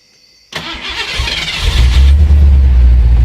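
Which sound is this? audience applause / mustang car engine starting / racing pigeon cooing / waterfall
mustang car engine starting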